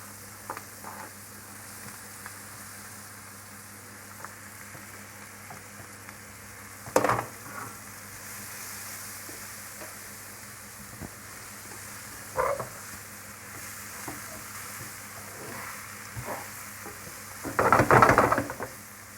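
Chopped button mushrooms frying with onions in oil in a pan for a lamb stew, a steady low sizzle throughout with a few louder clatters and stirring bursts, the last one near the end.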